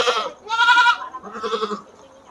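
PE and Sapera dairy goats on a farm in Pamekasan bleat three times in quick succession, loud and close, with nasal wavering cries and no talk over them.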